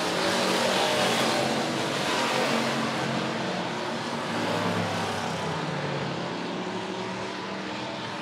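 Late model race cars thunder around Monett Motor Speedway in a feature race, a dense, loud, continuous engine roar swelling and fading slightly as cars run side by side past the listener.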